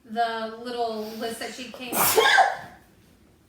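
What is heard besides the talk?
sneeze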